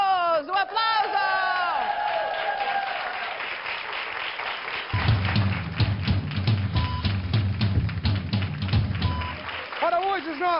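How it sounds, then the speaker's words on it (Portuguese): Studio audience on a television health talk show applauds and cheers, a dense, loud burst of clapping with whoops running for several seconds after a presenter's voice, then fading as talk resumes. "Um aplauso!"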